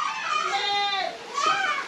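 Two drawn-out, wavering goat bleats, loud and close, the first long and quavering, the second shorter.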